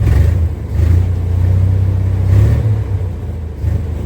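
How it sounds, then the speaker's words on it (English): A 1962 Dodge M37 truck engine runs rough and misfires on a couple of cylinders, a loud, uneven low rumble that surges and dips close by with no talk. "Looks like it's missing on a couple of cylinders."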